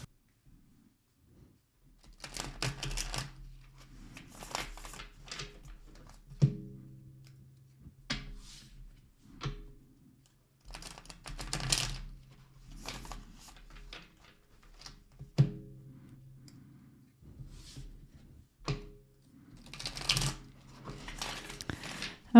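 Cards being shuffled in several quick, crisp riffling bursts separated by short pauses, close by, with a faint low hum underneath.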